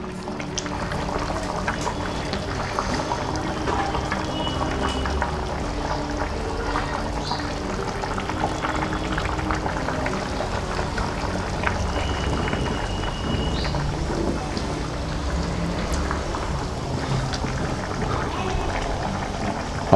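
Desi-style fish soup boiling hard on a high flame gives a steady bubbling and popping with small irregular blips, close and unbroken for the full stretch.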